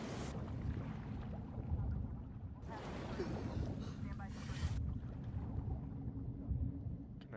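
Boat engine running in The Last of Us Part II, a low continuous rumble with wind and water wash, steady throughout with a burst of brighter noise midway.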